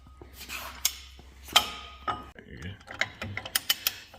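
A wrench cracks loose a stubborn inside wheel nut on a Peterbilt 379 truck, giving several sharp metallic clicks and clanks in close succession, near and fairly loud in a quiet shop.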